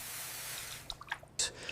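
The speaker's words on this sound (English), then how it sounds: "out the end of this tube, water is coming out" Water running out of the end of a tube to flood an ant enclosure, a faint hiss with a few soft splashes and drips toward the end, close by.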